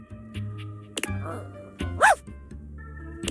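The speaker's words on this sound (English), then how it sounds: "strange creature that looks and sounds like a soapy little dog jumps up at your legs, yapping and barking" A soapy little dog creature in the video game Date Everything yaps and barks in short excited bursts, with a higher whimpering yip in the middle, mixed with music and voiced game dialogue.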